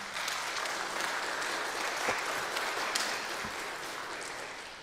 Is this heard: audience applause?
yes